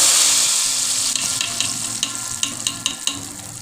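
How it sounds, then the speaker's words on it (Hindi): Browned fried onion tempering (baghar) hits a pot of chana dal gosht with a loud, bright sizzle that fades gradually, punctuated by several sharp spattering pops. "प्याज को हम फ्राई कर लेंगे। भगार की प्याज हमारी ब्राउन हो चुकी है। इसमें हम भगार डाल देंगे।"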